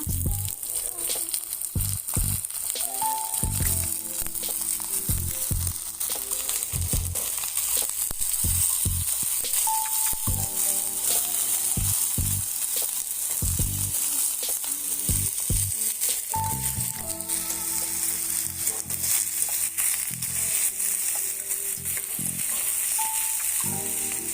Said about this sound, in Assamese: মাংসখিনি অকণমান ফ্ৰাই কৰি ল'ম।